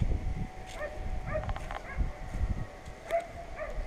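A dog barking from the far side of a reed bed near the water, a few short, faint, distant yips and barks scattered over a steady outdoor background.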